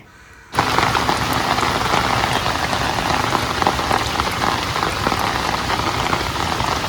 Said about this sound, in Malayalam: ആ ഒരു മുത്തും ആ ഒരു മഴയുടെ ശബ്ദവും അമ്പോ